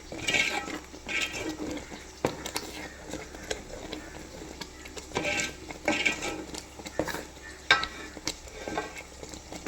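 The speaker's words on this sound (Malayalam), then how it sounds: "അത് ചേർത്തതിന് ശേഷം നമുക്ക് ഒന്നുകൂടി അങ്ങ് ഇളക്കിയെടുക്കാം." Jackfruit appam batter being stirred in a pan, with irregular scraping and soft thuds from the spoon over a faint background hiss, close and moderately quiet, with no one speaking.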